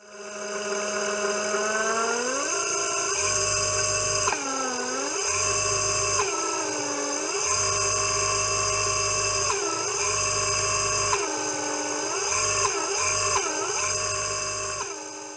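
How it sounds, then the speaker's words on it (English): A three-phase electric motor on a DIY variable frequency drive whines close up, its pitch sweeping up and down repeatedly as the frequency changes, with a steady high hum underneath. "I put the mic close to the motor, so you can hear the sound of the motor at different frequencies."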